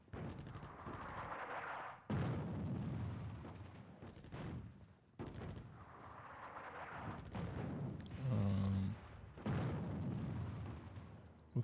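Heavy artillery shelling enemy troops in the video game Attack At Dawn: North Africa, a series of loud booming blasts, each followed by a long rumbling roar over about eleven seconds.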